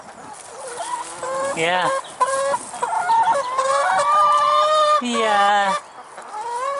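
Allotment hens cluck and squawk close by in a busy, overlapping run of calls, with a person briefly speaking among them.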